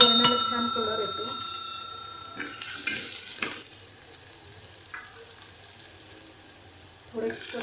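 Turmeric tipped into hot oil with mustard paste for a Maharashtrian varan tempering, crackling in a moderate sizzle that swells after an opening metallic ringing tone, then settles into a steady fry.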